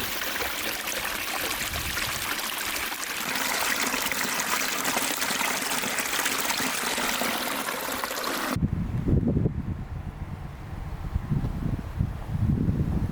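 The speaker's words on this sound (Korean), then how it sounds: "몰랐는데 바로 옆에 이런 시냇물도 있었습니다." A small stream flowing right beside a luxury cabin-style house in Manchester, Vermont in winter, a steady bright rush of trickling water that shifts partway through to a lower, burbling flow, continuous and moderately loud.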